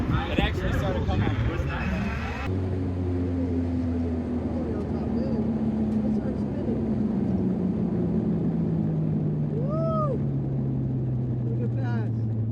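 A Toyota Supra MK3 with a 2JZ engine revs on a race track, a loud sustained engine drone climbing in pitch with passing vehicle sounds and people talking over it.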